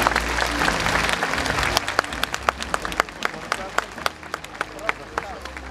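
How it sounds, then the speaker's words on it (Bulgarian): Applause for dignitaries invited onto a stage in Shumen, starting as a dense crowd roar of clapping and then thinning into scattered individual claps, with some voices underneath. "Аплодисменти."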